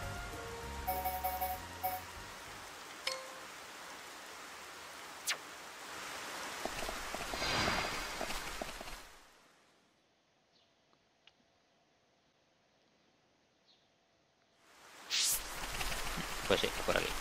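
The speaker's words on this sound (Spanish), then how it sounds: "está lloviendo" Rain falling in the video game Xenoblade Chronicles: Definitive Edition, a steady dense hiss with a voice talking over it at first, then dropping out into near silence midway before returning loudly at the end.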